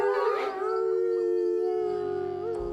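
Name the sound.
wolves howling in the witch's forest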